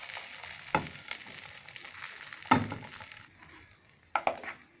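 Egg-dipped bread for a spicy bread omelette toast is set in a pan, giving soft sizzling with a few scraping knocks, close by and fairly quiet.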